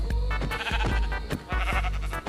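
Sheep in a survival video game, bleating several times in quick succession, loud and close over a steady low background hum.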